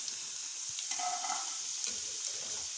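Potato fries sizzle steadily in hot ghee with a bright continuous hiss and faint crackles and stirring clinks, close and alone.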